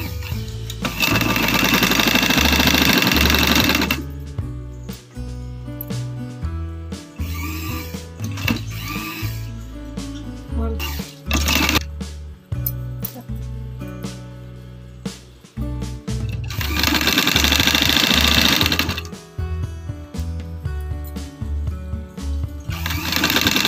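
A sewing machine stitches along the edge of lace on trouser fabric, its motor running in long, steady, loud bursts broken by short stops and clicks as the cloth is turned.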